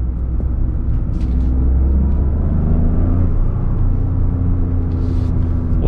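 A 2023 Toyota GR Corolla pulls away in GR4 track mode with a 50-50 torque split, its engine producing a loud, steady low rumble and drone heard from inside the cabin throughout.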